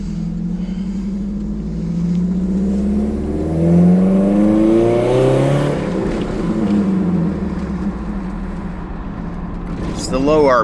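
Low engine hum and rising drone from a Nissan D22 Frontier truck with a KA24DE engine while driving, steady and close, with someone talking over it throughout.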